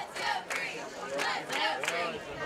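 Football fans fill a high school stadium with loud, continuous crowd noise, a mix of shouting and cheering with sharp bursts of yelling rising over the steady roar of the stands.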